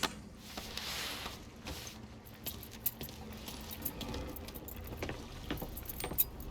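Car keys jingle and rattle in the Mafia III video game, a busy metallic jangle running through the whole stretch over faint vehicle-like rumble, with no talking.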